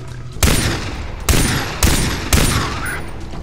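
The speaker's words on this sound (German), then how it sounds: "Jetzt schieße ich dir mal direkt in den Kopf." Four loud gunshots fired at a wild boar in the video game Far Cry 3, sharp close blasts spaced about half a second apart, each with a short echoing tail.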